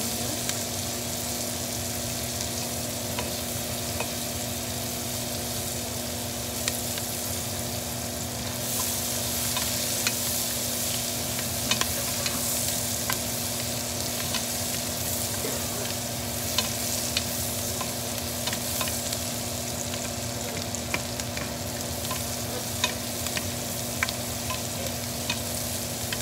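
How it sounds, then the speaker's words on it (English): Sliced onions sauté in a pan with a continuous, even sizzle and occasional stirring clicks close by. "You put your sliced onions and sauté your sliced onions."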